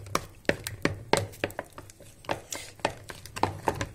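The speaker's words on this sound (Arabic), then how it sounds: "المهم غنخلط هذا الشيء كله" Basbousa ingredients and sugar being mixed in a bowl with a utensil, giving a steady run of sharp, close scraping and tapping strokes against the bowl, with no voices.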